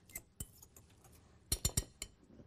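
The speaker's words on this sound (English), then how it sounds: "So, now what we do is we get this whisked up" A utensil whisks a ginger paste dressing in a bowl, producing light, irregular metallic clinks and taps that cluster into a quick run of three or four sharper hits, all fairly close and quiet.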